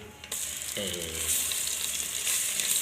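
Ginger, garlic and onion paste hits hot oil with bay leaf, cinnamon, cloves and cardamom in a rice cooker for a beef and jackfruit seed dish, bursting into a loud, steady, close sizzle after a brief quieter start.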